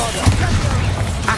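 Bombarda explosion spell cast in the Hogwarts Legacy game, a loud, deep boom with a sustained low rumble and crackling debris, partly overlapped by voices.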